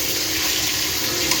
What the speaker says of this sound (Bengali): ডিম ভাজা চলছে এখানে।